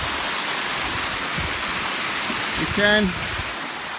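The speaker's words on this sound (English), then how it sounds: "That's Buttermilk Falls." Buttermilk Falls near Ellenville gives a steady, broad rush of falling water close by, continuous throughout, with someone speaking briefly over it.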